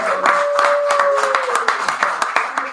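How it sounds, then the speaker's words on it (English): Scattered clapping from a small group, close by, applauding a crew after the Gervonta Davis vs Ryan Garcia fight, with a sustained tone and some voices mixed in beneath the claps. "one more applause for my crew"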